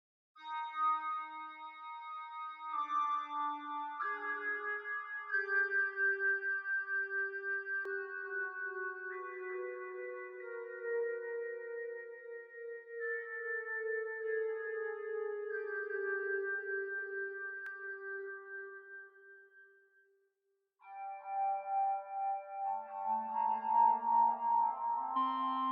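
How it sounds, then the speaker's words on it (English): Half Light Audio Taped Spaces tape reverb effect carrying sustained tonal notes that smear and trail into long washy tails, clean and fairly quiet, with a brief drop to near silence before the sound resumes. "So we're just listening to the reverb sound right now."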